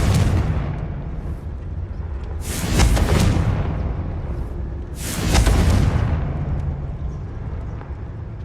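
Confringo blasting spell explosions in Hogwarts Legacy, two big booming bursts a few seconds apart, each with a long rumbling tail over a low background roar.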